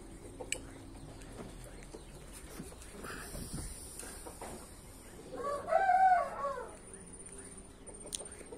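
Backyard chickens and a rooster foraging for worms, with soft clucking in the background and one clear, loud rooster crow rising and falling midway, fairly close.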